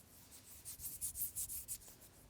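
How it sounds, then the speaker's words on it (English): Fingers rubbing together close up, a soft dry hiss in about eight quick brushing strokes, faint and alone. "things that disturb the air in just a very small way, like rubbing your fingers together"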